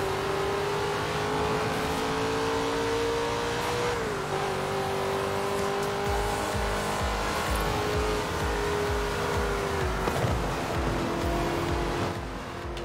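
Dodge Viper engine in the racing game Forza Horizon 4, a steady loud drone held at high revs with a dip and gear shift partway through, running continuously without speech.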